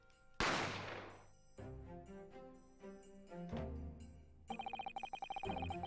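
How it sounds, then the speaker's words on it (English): A single loud gunshot cracks out in a detective adventure video game and rings off quickly, followed by melodic in-game music with sustained tones and a run of rapid plucked notes. "I didn't have time to think about where the sound of the gunshot had come from"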